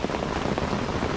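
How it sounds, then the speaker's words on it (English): Heavy rain pours steadily beside a carp fishing lake, a dense, unbroken hiss of drops on the surface that stays loud and constant throughout, with no voices. "Sometimes a good downpour does get them feeding."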